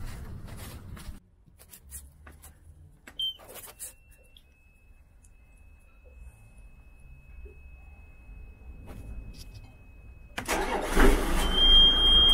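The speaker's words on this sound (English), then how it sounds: "now what I need to do is start the engine and let it run a bit" A Volvo Penta diesel engine on a Carver 3207 Aft cabin boat turns over and starts, then settles into a steady low idle, with a louder burst of running near the end.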